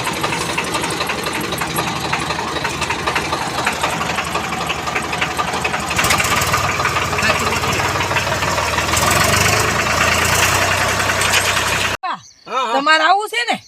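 A tractor engine runs steadily and loudly throughout, a dense mechanical drone with voices talking over it, and a single voice rises clearly at the very end as the rumble drops away.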